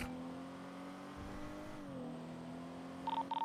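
Motorbike engine from the Cliffhanger bike in GTA roleplay, a steady droning hum held throughout, slightly shifting pitch partway, with short electronic beeps near the end.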